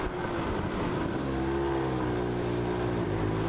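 A Suzuki AX 100 two-stroke motorcycle fitted with an RX 100 carburetor on a test ride. Its engine drones steadily and loudly at close range, and the pitch climbs slightly partway through, with no voices.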